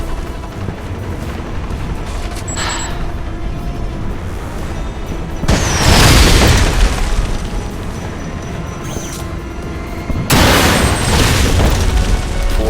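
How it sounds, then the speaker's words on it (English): Loud in-game explosions from rocket fire in the Alpha Protocol video game: two heavy booming blasts several seconds apart over a dense, constant background of game noise, without talk. "How did the point blank rocket miss?"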